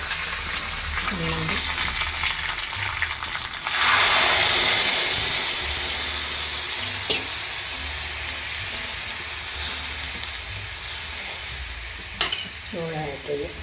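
Curry leaves and ground chutney hit a hot pan, with a loud sizzling surge as the chutney goes in, then a steady hiss and occasional stirring scrapes close by.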